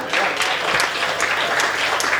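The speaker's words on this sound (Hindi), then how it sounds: "आपकी तालियां थोड़ी सी कमज़ोर है" Steady applause from an audience at a Hindi comedy poetry gathering, a dense, even patter of many hands clapping continuously with no gaps, fairly close and loud.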